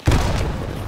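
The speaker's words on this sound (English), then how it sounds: "Frag bomb!" A frag bomb bursts in the game Hunt Showdown, a single heavy close boom that rolls into a short rumbling decay.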